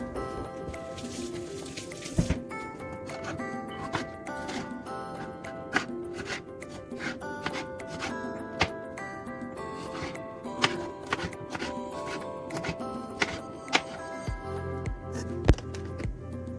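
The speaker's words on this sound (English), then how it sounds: "Now it's time to cut the pepper and to slice them." A knife slices peppers on a cutting board in a home kitchen, giving a string of quick, light, uneven chops and taps over soft background music.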